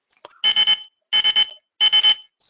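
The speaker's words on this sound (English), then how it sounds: "I'm going to beep the scanner now." A Zebra barcode scanner sounds three clusters of three quick, loud, high electronic beeps, spaced evenly apart in an otherwise quiet room.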